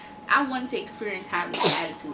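A single sharp sneeze breaks into ongoing conversation, with someone talking before and after it in a quiet indoor room.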